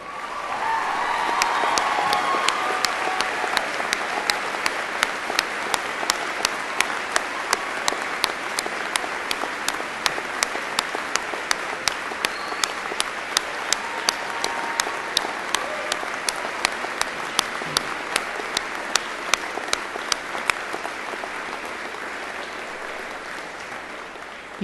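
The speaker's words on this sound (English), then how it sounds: "please stand for a round of applause" A long, steady round of applause fills a large commencement ceremony hall at a State University of New York graduation, with many hands clapping densely and evenly for over twenty seconds and then easing slightly toward the end.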